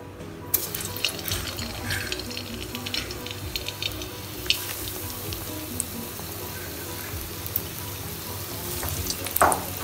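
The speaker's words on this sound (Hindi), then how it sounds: "हम एक टाइम पे 3 से 4 बॉल्स को अच्छी तरह से फ्राई कर सकते हैं।" Kofta balls frying in a little oil in an appam pan, giving a steady soft sizzle with scattered crackles and pops, close and moderately loud, with no talking.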